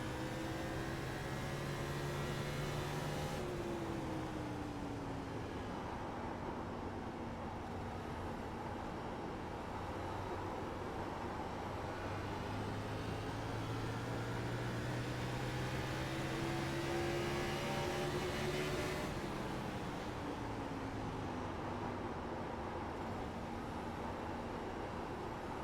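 A race car engine in iRacing on the New Hampshire track howls at full throttle, a steady droning whine that rises and falls in pitch through gear changes and corners, constant and close throughout.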